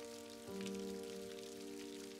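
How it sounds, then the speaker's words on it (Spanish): Rain falls steadily in the Montes de Toledo countryside as a soft, even patter, faint and alone over a sustained tonal drone. "la lluvia se hizo más intensa, diluyendo los contornos en la distancia."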